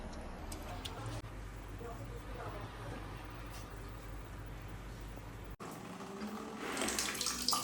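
Water runs steadily in a bathroom while a dog named Rocky is bathed, a continuous close hiss with faint ticking, swelling louder near the end.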